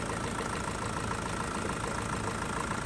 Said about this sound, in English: engine is still running. Yeah, the engine not died.